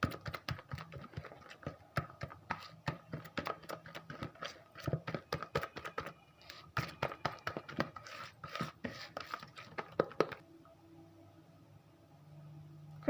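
A spoon or whisk works melted chocolate into cake batter in a bowl, making rapid, irregular clacking taps against the bowl that stop abruptly near the end.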